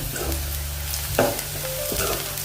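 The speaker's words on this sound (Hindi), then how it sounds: "अच्छे से हमने भून लिया है प्याज को भी" Onions frying with radish in a hot pan, a steady close sizzle with a spatula scrape near the middle and light stirring clinks, no voices.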